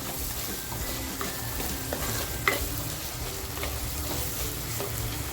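Coconut masala being sautéed and stirred in a pan for spicy mutton curry, a soft continuous sizzle with faint scraping strokes of a spoon and one brief clink, fairly quiet and close, without speech.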